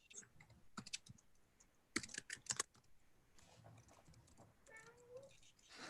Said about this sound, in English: If you heard my cat meow.